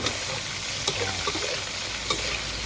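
Large chunks of giant Mekong catfish stir-fried in a hot pan, a continuous loud sizzle with a few clanks and scrapes from tossing and stirring, heard close up with no talk.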